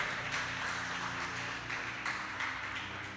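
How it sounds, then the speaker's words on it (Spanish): A church congregation applauds, a dense wash of many hands clapping continuously at moderate distance over a low sustained hum, with a few louder swells. "Yo quiero que usted le dé el mejor aplauso que usted ha traído al Rey de Gloria."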